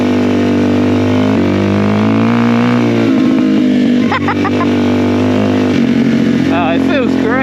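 A Suzuki DRZ 400 dirt bike engine drones loud and close while being ridden, holding a steady buzzing tone that shifts pitch with the throttle, with someone talking over it.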